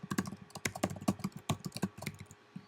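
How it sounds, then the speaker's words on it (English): Typing on a computer keyboard while entering a title, a quick irregular run of light clicky keystrokes, close and fairly quiet, with no voices. "You can start by just typing after you click anywhere on the screen."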